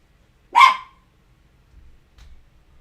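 A single sharp dog bark rings out close and loud in an otherwise quiet room, followed by faint low rustling.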